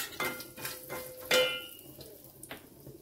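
Mustard seeds, cumin, asafoetida and curry leaves hit hot oil in a pan with soft, brief crackles, mixed with a few sharp metallic clinks and scrapes of a spoon against the vessel, fairly quiet and close.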